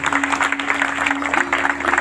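Audience clapping at a birthday celebration for social worker S. P. Samant, a steady, dense patter of many hands throughout, moderately loud with a faint crowd murmur and a low steady hum underneath.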